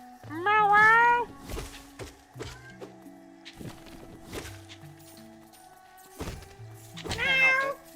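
A cat meowing twice, a clear drawn-out meow near the start and another near the end, between soft thumps and footsteps, with a melodic game soundtrack playing quietly underneath.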